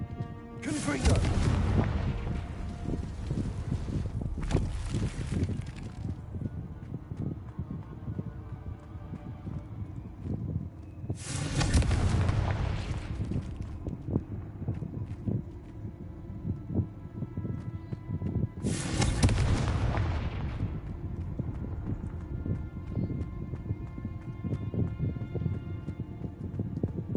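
Three loud explosive blasts from the Confringo spell in Hogwarts Legacy burst out at intervals of several seconds, each a broadband boom with a long decaying tail over a steady rumbling game soundscape.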